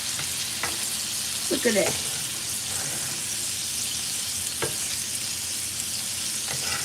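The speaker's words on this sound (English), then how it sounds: "Isn't that what it sounds like when you're frying?" Food fries in a pan on an outdoor fire, a steady close hiss and sizzle with a few scraping stirs and clinks, and a person speaks briefly over it.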